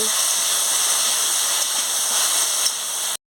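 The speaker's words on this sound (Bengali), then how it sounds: "ফোড়নগুলো হয়ে গেছে এবার আমি চালটাটা দিয়ে দিচ্ছি" Chopped elephant apple hits hot spiced oil tempering and sizzles in a loud, steady steamy hiss that holds evenly, then cuts off abruptly at the end.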